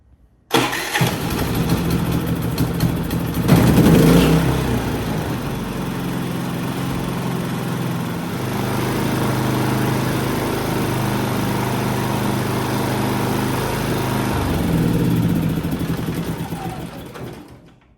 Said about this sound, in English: I'm going to fire it up, let it run a little bit, for a couple minutes